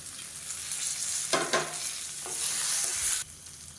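Ginger, garlic, bay leaf and mint frying in a pan, a steady sizzle with a few scraping stirs of a spoon before the sizzle cuts off near the end.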